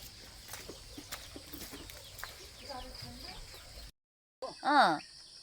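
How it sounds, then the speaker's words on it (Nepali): A few soft clucks from chickens in the background, with a louder bird call near the end after a brief gap. "लोकल कुखुराहरू त्यतातिर हिँडिरहेको छ होइन लोकल कुखुरा"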